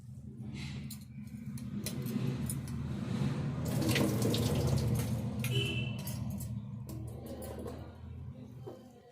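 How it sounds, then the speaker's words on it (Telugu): Soaking water poured off soaked puffed rice in a kitchen, a continuous splashing and trickling stream that swells in the middle and tapers, with a few faint clinks of the container. "కొంచెము ఈ వాటర్ వంపుకుందాము."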